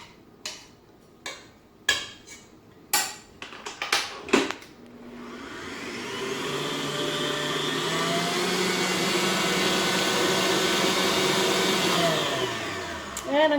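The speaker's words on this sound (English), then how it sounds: "I'm going to mix it again because I want to make sure there's no lumps at all" Electric hand mixer beating mocha cheesecake filling in a bowl, a few sharp knocks and taps first, then a steady loud whirring motor drone that holds for several seconds before tapering off.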